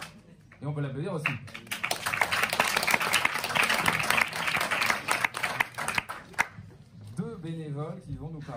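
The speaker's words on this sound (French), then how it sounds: "Et on peut l'applaudir aussi" Sustained applause from a live audience at the Radio Don 2019 special broadcast, a thick, steady wash of clapping lasting about six seconds, with brief talk just before it starts and again as it dies away.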